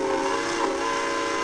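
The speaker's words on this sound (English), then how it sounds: "let's go ahead and play a train whistle real quick" A train whistle sound effect blows as one sustained, loud, steady tone with layered harmonic pitches, with no talking over it.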